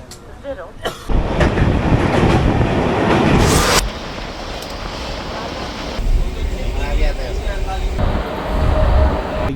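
A passenger train in general class between Buxar and Malda runs through a tunnel, a loud continuous roar and rattle that changes character partway through, with speech over it.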